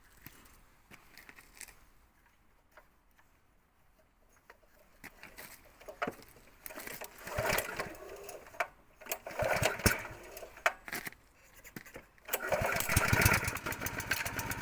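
Rototiller being started after choking: a weak cranking sputter builds into an irregular, rattling small-engine run that surges louder toward the end, recorded close up.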